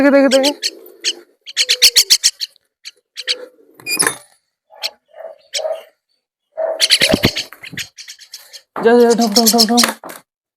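Domestic pigeons coo in short, soft bursts, scattered through talking nearby. Louder vocal passages come and go around the calls.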